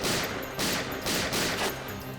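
Bursts of gunfire crackle in quick succession, several loud volleys close together with brief gaps between them.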